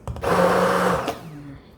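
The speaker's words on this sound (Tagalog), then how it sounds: "Gumamit ako ng blender, di ba?" A kitchen blender whirs loudly for about a second with a rising motor pitch, then winds down and fades.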